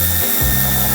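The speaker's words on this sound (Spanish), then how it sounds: "Volvemos a colocar los tornillos de la parte inferior." A power tool drives screws into the lower bumper mount of a 2020 Peugeot 2008 II during tow hitch fitting, a loud close whirring drone that dips briefly and then revs back up.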